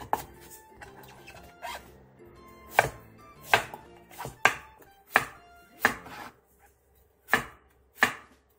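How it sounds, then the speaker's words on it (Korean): A knife chops an old cucumber into large cubes on a cutting board, about a dozen crisp, uneven chops up close, each a sharp thud with brief pauses between. "노각을 먹기 좋은 크기로 큼직하게 깍둑 썰게 해주세요."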